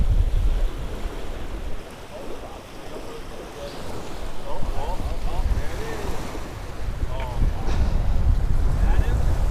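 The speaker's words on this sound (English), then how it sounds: "Big ass gust of wind." Strong gusts of wind buffet the microphone on a windy day of catfish fishing at the water's edge during a wind advisory, a loud continuous roar that swells and surges, with faint voices underneath.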